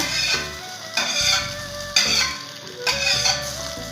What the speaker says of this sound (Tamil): கடுகுலாம் நல்லா பொழிஞ்சிடுச்சு இப்போ நம்ம இதை தாளிச்சிக்கலாங்க